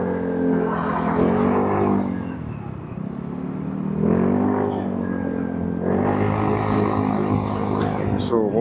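Modern Vespa scooter with a loud exhaust riding through traffic in the Bacoor area, Philippines, during a Distinguished Gentleman's Ride; a steady, close engine drone and rising revs run throughout.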